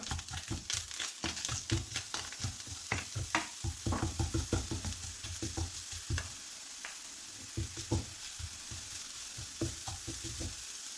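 Grated coconut and powdered jaggery are stirred in a pan for sweet ragi ilayada, giving repeated close scraping, rustling strokes over a soft sizzling hiss, steady and unhurried with no talking.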